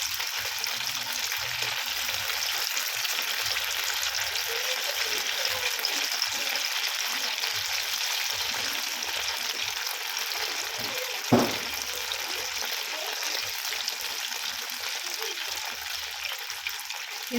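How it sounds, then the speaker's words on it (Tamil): Leftover idli pieces deep-frying in hot oil until golden brown, a constant, dense crackling sizzle close up, with one brief knock partway through. "இது நல்லா கோல்டன் ப்ரௌன் கலரில் சேஞ்ச் ஆகிற வரைக்கும் டீப் ஃப்ரை பண்ணி எடுத்துக்கலாம்"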